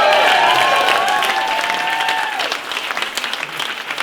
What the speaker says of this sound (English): Can we get a massive round of applause for the CMOs who've bravely stepped forward.